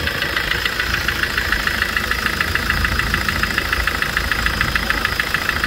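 A pickup truck that had sat unused and needed a jump start from another car idles steadily nearby, its engine knocking hard with a fast, even clatter throughout, with no voices.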